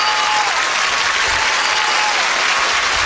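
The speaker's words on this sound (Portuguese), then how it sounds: "Vamos aplaudir que é espetacular." A large audience at a Brazil's Got Talent show applauds steadily and loudly, dense clapping filling the hall without pause.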